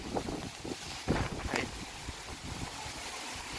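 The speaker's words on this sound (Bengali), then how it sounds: "আমি দাঁড়িয়ে থাকতে পারতেছি না, এতটাই প্রবল ঝড়ো হাওয়া হয়ে যাচ্ছে" Strong stormy wind before rain blows hard across open rice fields under a cloudy sky, roaring and buffeting a nearby microphone with steady rumbling gusts and a few louder bursts.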